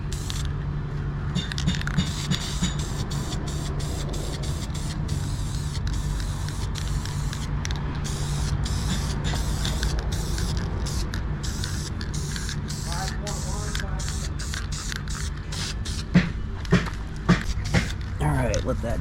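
Continuous hiss of a spray can coating truck rims on an F600, loud and close, sustained for many seconds, broken by brief gaps and small rattles near the end.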